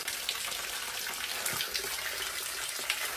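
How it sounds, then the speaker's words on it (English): Water is dumped out during a building and plumbing job converting a space into a man cave. It makes a steady gushing, splashing wash at moderate loudness with no speech. "So we're dumping this water."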